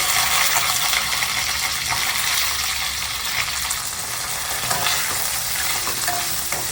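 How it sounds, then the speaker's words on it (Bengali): Cauliflower florets frying in a wok for a mixed vegetable dish, a steady close sizzle with scraping stir strokes throughout, no talking. "ফুলকপিগুলো দিয়ে ভালো করে নেড়ে চেড়ে দিচ্ছি।"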